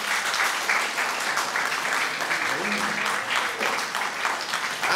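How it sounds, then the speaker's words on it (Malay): At a professor's inaugural lecture, an audience breaks into sustained applause, a dense, loud wash of many hands clapping continuously while a voice speaks faintly beneath. "Berikan tepukan."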